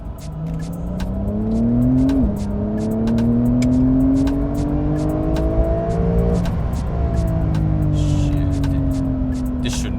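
A Porsche 911 Carrera 4S engine in Sport Plus mode revs hard, rising in pitch, dropping as it shifts and climbing again, loud and close throughout with sharp ticking clicks scattered over it.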